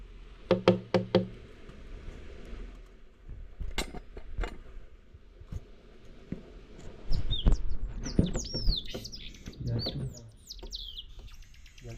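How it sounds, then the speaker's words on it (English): Birds chirp and squabble just outside, with bright tweets growing busier in the second half, after some sharp knocks and clatter of utensils being washed nearby; faint voices are present. "there's a bird here"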